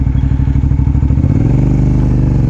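A motorcycle engine runs loud and close during a riding lesson, a steady throbbing putter that shifts pitch partway through as the bike changes speed.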